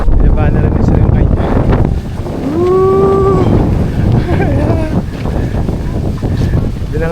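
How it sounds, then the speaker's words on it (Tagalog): Strong storm wind buffets the microphone and flaps tents at a beach campsite in Lobo, Batangas, a loud steady roar with gusts, while people talk nearby and a cow moos partway through. "Lumalakas yung hangin."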